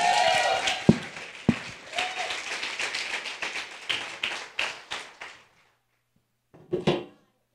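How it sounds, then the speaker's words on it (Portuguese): Church congregation applauding, a round of clapping that thins into scattered claps and stops, followed by a brief final burst after a short silence. "eu queria uma salva de palmas para minha esposa, Mônica"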